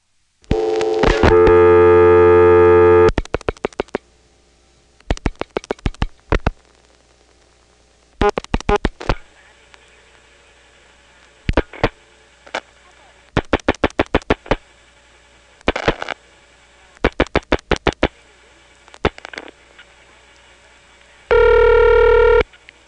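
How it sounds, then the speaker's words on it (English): Rotary dialing through a senderized XY step-by-step telephone exchange in Prince William County, Virginia, 1977: a dial tone, then bursts of rapid clicking pulses for each digit with quiet gaps, ending in a loud tone. "by rotary dialing 67 to drop the register sender, then dialing 5 for Manassas, 1 for 361, and the last 4 digits, 7171"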